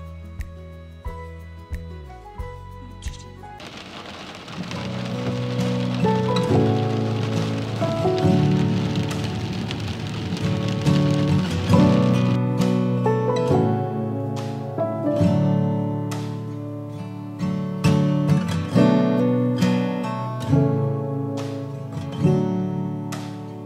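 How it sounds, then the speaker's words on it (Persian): The first autumn rain falls in a steady patter, heard under music playing throughout. "اولین بارون پاییزی اومده"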